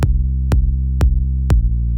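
Serum synthesizer bass patch through a low-pass filter, with drive and a lowered master level, plays four evenly spaced notes, each starting with a bright attack that quickly darkens into a deep sustained low tone.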